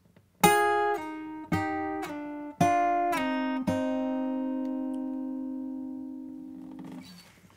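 An electric guitar plays the double-stop solo line from a song, with five or six clean picked notes, the last one ringing out long and fading.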